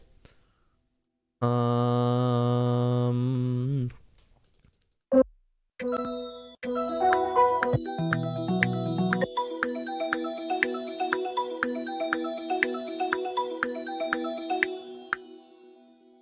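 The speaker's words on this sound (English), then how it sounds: "this sound right here is from Xband. It is called the Cascading Bells preset." Cascading Bells synth preset from the Xband plugin, played in a Cakewalk trap beat session: a sustained tone, then bright cascading bell plucks repeat in a steady rhythmic pattern with rippling high overtones, loud and alone.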